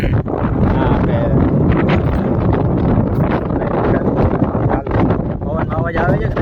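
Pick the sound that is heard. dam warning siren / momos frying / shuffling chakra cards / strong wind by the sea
strong wind by the sea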